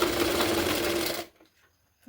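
A sewing machine stitches strips on a four-tuck blouse with a fast, even whirring run for just over a second, then stops abruptly, leaving near silence.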